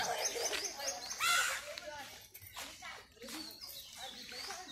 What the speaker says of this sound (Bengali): পাখি ডাকতেছে খুবই ভালো লাগে শুনতে পাখির ডাক